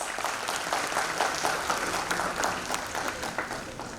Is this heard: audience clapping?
yes